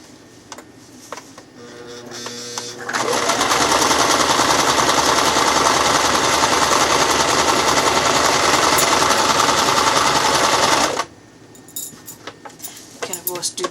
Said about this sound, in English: I'm going to sew zigzag stitch.